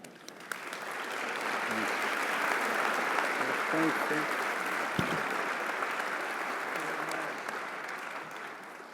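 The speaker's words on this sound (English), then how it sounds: "One more round of applause for the mayor-elect's uncle" Audience at the Pittsburgh mayor-elect's inauguration ceremony breaks into sustained applause, a dense steady wash of clapping that holds for several seconds, with faint voices and murmurs mixed in underneath.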